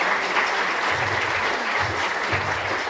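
A roomful of audience members at a community teach-in fundraiser clap steadily, a dense, even wash of applause lasting the whole stretch with no voices on top.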